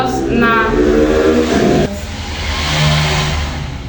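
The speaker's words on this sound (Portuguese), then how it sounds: "Esperar o carro passar." A car passes by outside, a loud, steady engine rush that swells and fades over a few seconds, heard under people talking nearby.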